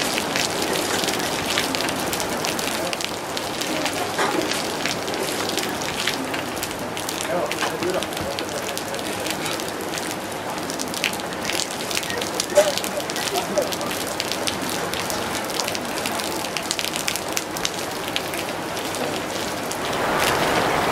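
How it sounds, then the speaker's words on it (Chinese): Heavy rain suddenly pours down in Melbourne, a dense, continuous hiss of drops hitting the ground and an awning overhead, loud and close for the whole stretch. "刚才还是晴天，然后突然之间呢就开始下雨了"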